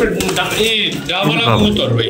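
Pigeons and pigeon chicks coo and call close by in a loud, continuous mix of low burbling coos and higher warbling cries, with a person talking over them.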